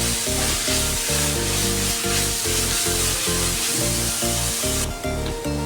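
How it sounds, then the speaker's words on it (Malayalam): Cabbage thoran stir-frying in an uncovered pan gives a continuous, loud sizzle mixed with steady background music. "മൂടി വെക്കാതെ തന്നെ ഇളക്കി ഇത് വേവിച്ചെടുക്കുകയാണ് ചെയ്യുന്നത്."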